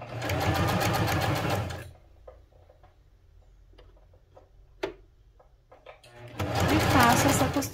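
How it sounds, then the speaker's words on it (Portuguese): A sewing machine runs a safety seam along a lace edge at stitch length 3.5, with two loud steady stitching runs framing a quiet stretch of small clicks and fabric handling, close by. "Venho aqui na máquina e vou fazer uma costura de segurança"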